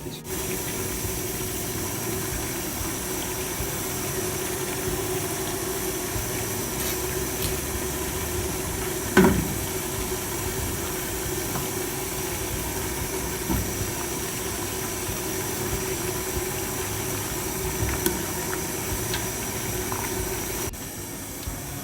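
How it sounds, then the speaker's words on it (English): A food steamer cooking chicken and vegetables, giving a constant broadband hiss and rumble that holds steady throughout, with a faint clink partway through. "Now we're gonna put it in the steamer."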